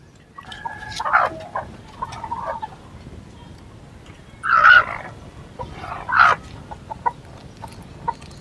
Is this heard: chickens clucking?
yes